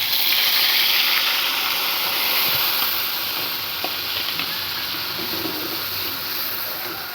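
Onion, ginger, garlic and chili paste hitting hot oil in a kadai, a continuous loud hiss and crackle that eases slightly after the first few seconds, with faint scattered pops and no talking.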